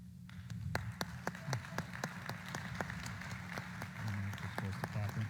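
Audience at a state FFA convention clapping for honorary degree recipients, a small scattered group of crisp individual claps at an uneven rhythm, with a voice talking over and between them.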